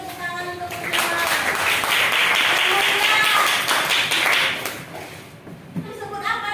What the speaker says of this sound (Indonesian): Beri tepuk tangan untuk Kurniawan.